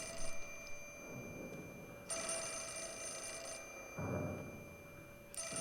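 A phone in the horror game Fatal Frame: Mask of the Lunar Eclipse rings in repeated trilling bursts over a steady tonal hum, with a low rumble swelling between rings.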